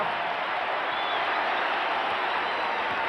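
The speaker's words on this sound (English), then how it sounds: "This crowd is loving it." A basketball arena crowd applauds during the 1989 NBA Finals Game 3 between the Los Angeles Lakers and Detroit Pistons, a loud, sustained wash of clapping and cheering that fills the whole stretch evenly.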